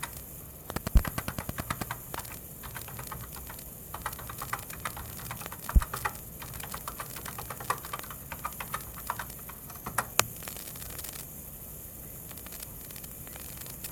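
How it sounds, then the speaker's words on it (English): A website address is typed on a computer keyboard in a quiet room, a run of soft, close key clicks with short pauses and a few sharper taps, over a faint steady background hiss. "So what I'm going to do is to type in the address of my website."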